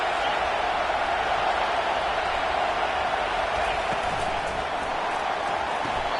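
A stadium crowd cheering at an LSU vs South Carolina football game, a broad, steady roar of many voices that holds evenly throughout, loud and continuous with no breaks.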